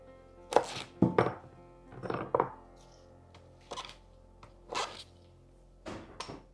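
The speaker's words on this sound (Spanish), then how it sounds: "vamos a cortar las rebanadas de pan en daditos" Knife cutting slices of bread into small cubes for carrot soup, giving about eight separate crisp, crunchy chops in short bursts with brief pauses between them, close and moderately loud with no talking.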